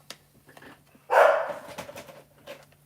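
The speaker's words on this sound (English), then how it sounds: "can't think with her barking on the background" A dog barks in the background of a room, with one louder bark burst followed by fainter yips and whimpers, mostly alone with a low steady hum underneath.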